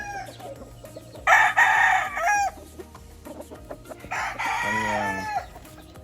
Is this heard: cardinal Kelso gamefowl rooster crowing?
yes